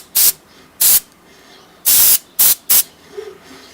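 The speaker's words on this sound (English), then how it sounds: "Okay, so I'm not done spraying it yet." Spray paint is applied to a wooden western-style sign in five short, loud hissing bursts, each lasting a fraction of a second and separated by brief pauses.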